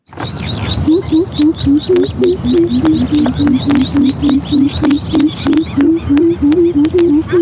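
Recorded pigeon call playing as a loud, repeated cooing phrase in a steady rhythm, with sharp chirp-like clicks running through it and no one speaking over it.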